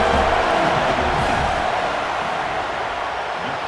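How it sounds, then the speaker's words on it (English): A stadium crowd roars at a college football video game during a fourth-down field goal attempt, a dense, steady wall of noise that holds loud throughout and eases slightly toward the end. "This crowd trying to do its part to get inside the kicker's head"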